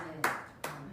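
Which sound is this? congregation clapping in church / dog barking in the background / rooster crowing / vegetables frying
congregation clapping in church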